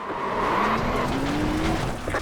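A racing car engine in a video game roars steadily as the car skids off track, its pitch sliding upward with a brief tire squeal, loud and close.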